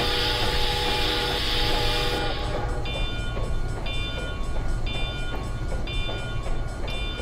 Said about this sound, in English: So what I'm doing here is I'm moving these cars out of the yard here for a second.